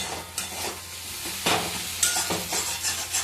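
Dhaba-style egg bhujia sizzles in an oiled wok as a spatula stirs and scrapes it in short, irregular strokes, close and fairly loud.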